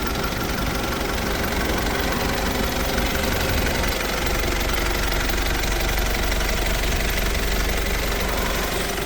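A Mitsubishi Shogun with the 3.2 DID common rail diesel engine sits idling, a steady, loud mechanical drone with a faint knocking rattle running evenly throughout, no voices.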